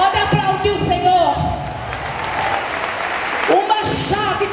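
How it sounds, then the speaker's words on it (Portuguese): A church congregation breaks into applause praising the Lord, a broad wash of clapping with voices speaking and calling out over it. "Pode aplaudir o Senhor."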